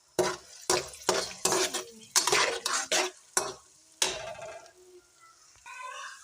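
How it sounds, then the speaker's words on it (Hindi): Finely chopped onions go into hot ghee in a pan and are stirred with a spoon, giving a string of close scraping clatters over a faint sizzle that lingers alone toward the end. "तो यहाँ पे मैं प्याज ऐड करूँगी"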